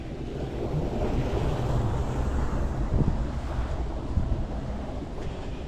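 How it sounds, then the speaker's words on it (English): Water flows in a constant, broad rush on an outdoor walk, heard fairly near and steady throughout, partly blurred by wind buffeting the microphone. "Water's flowing good."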